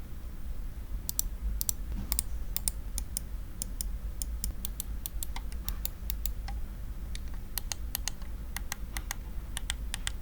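Mouse buttons of a budget gaming mouse with clicky Han-O switches, clicked repeatedly in quick irregular bursts, crisp and close against a quiet low hum.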